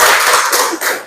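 Students in a classroom clap their hands together in a brief, loud, dense burst that quickly drops away near the end.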